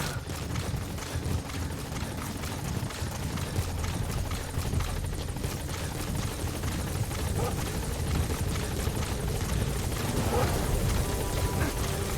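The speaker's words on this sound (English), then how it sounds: "Support helicopter has arrived." A support helicopter in Metal Gear Solid V hovers with a steady, close rotor chop and engine whine, a continuous rhythmic thumping without pause throughout.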